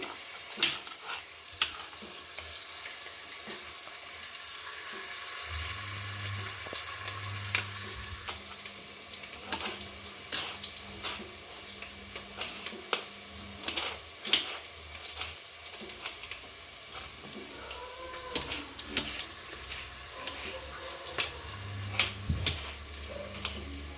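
Three tomatoes frying in a pan for tomato bath, a soft, steady sizzle with intermittent spatula scrapes and clicks, plus a low rumbling hum coming and going in the background.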